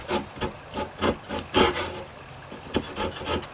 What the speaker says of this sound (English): I have a hacksaw. It's a thin blade with small teeth, very strong, can definitely cut through this freshly cured carbon.